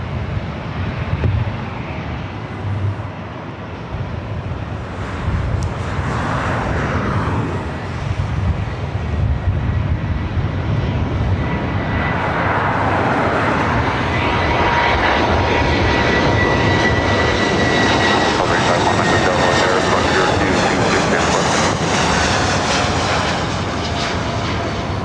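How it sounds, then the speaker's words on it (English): A Delta Airlines A320 arriving at LAX on the north side produces a sustained jet rumble that swells into a louder, brighter whine in the second half, with some wind buffeting on the microphone. "Next arrival here on the north side is Delta Airlines Flight 1071 coming in from Kansas City on an A320"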